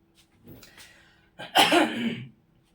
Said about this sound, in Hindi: क्यों कर रही परेशान खांसी